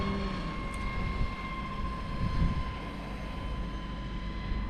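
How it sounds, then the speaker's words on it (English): Big RC helicopter rotors spinning steadily at an RC airplane and helicopter fly-in at Hodges, a continuous loud whirring drone with engine tone, close and constant throughout. "I can hear them big old rotors"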